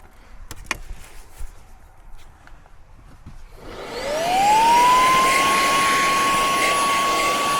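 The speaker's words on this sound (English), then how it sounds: "Just take the vacuum to it." Vacuum cleaner sucking up spilled rice, starting after a few quiet seconds with faint clicks and quickly rising into a loud, steady high whine that keeps running to the end.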